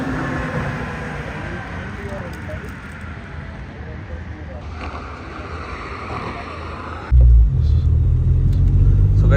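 A Stage 3 Volkswagen Polo with a big turbocharger and no intercooler rumbles low and steady amid outdoor noise, then bursts into a much louder, deeper engine roar near the end.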